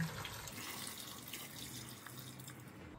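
Water is poured into a cooking pot of pork sinigang, a soft steady splashing and trickling that is faint and close, with no talk over it.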